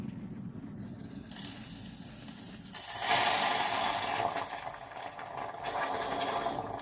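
Boiled water pours into a pan with a steady hissing splash that swells and stays loud and close for several seconds.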